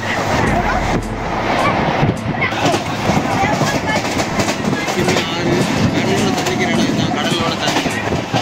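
Passenger train running along the Kerala coast, with loud, steady rumble and rhythmic clickety-clack of the wagons heard from on board, a continuous roar with wind noise throughout.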